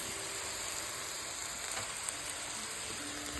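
Shrimp sizzle in garlic and butter in a pan with a steady, even hiss of frying that continues throughout, fairly soft and close, with no talking.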